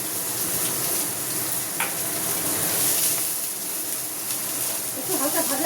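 Bitter gourd pieces fry in hot oil with kalonji and chili, giving a steady broad sizzle that stays close and even throughout, swelling slightly near the end as the pieces settle.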